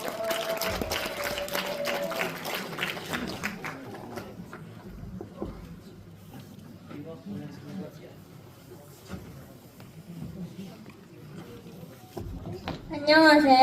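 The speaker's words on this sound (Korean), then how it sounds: "큰 박수 부탁드립니다." An audience gives applause for a student presenter at a university academic festival, loud clapping at first that thins into scattered claps, with talk following.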